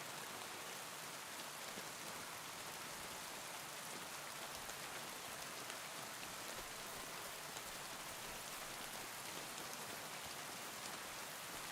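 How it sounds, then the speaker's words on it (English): Rain pelts the leaves in the Kingdom Come: Deliverance II video game, making a dense, even hiss of countless drops. It holds steady throughout at a fairly soft level, with no voices. "Now the rain's kicking up."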